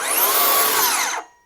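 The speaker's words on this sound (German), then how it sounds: "Säge ist an" A DeWALT 18V cordless plunge saw whirs at full speed on its guide rail without cutting, a loud, bright, high-pitched spinning whine held for about a second before the motor winds down and fades.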